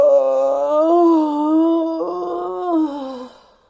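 A voice imitates a wolf yawning with a long, drawn-out moaning yawn that wavers in pitch and fades away at the end, close and alone.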